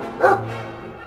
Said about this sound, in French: Et ils avaient des chiens.